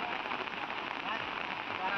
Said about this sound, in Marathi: मुसळधार पाऊस पडतोय पालघरच्या विशेषतः पश्चिम भागामध्ये पावसाने जोरदार हजेरी लावली आहे